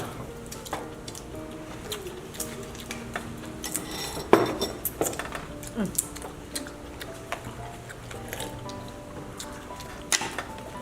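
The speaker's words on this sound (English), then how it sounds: "Clean that cooking pot." A cooking pot used for a crawfish, baby corn and bamboo shoot stir fry is scrubbed and handled, with scattered metallic clinks, scrapes and knocks at an uneven pace, one louder clang near the middle.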